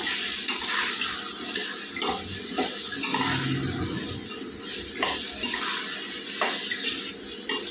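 Turmeric-coated pieces for biryani khatta stirred in a pan, a steady scraping swish over a soft sizzle with intermittent utensil knocks, close and continuous throughout.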